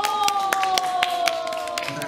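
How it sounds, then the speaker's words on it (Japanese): An audience at a street performance opening during a shopping-centre festival claps in quick, fairly regular beats, while a long, slowly falling tone rises above the clapping like a drawn-out cheer. "大きな拍手と、アナウンサーからおーという大きな歓声でお願いします"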